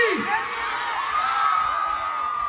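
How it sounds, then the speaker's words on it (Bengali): A crowd at a Durga Puja season film promotion event in Balurghat cheers, whoops and shouts steadily at close range, a dense sustained roar with a few voices rising above it. "একটু জোরে হাততালি ফর অনির্বাণ ভট্টাচার্য"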